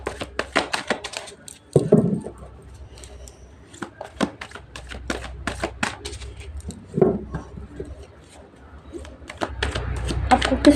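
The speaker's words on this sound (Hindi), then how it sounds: "मैं कार्ड को मिक्स कर दूँ अच्छे से" A deck of cards is shuffled by hand, with repeated close, quick riffles and taps coming in bursts and pausing briefly between them.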